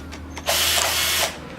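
A Bosch GSR 12-2 12-volt NiCad cordless drill whirs up to full speed, a loud steady whine held for under a second before it cuts off, with a few faint clicks just beforehand.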